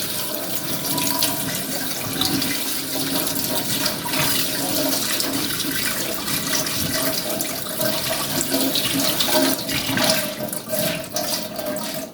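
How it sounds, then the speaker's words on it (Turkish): Steady running water pours continuously, with light splashing and swishing as rice is rinsed under a tap. "pirinci sudan geçireceğim"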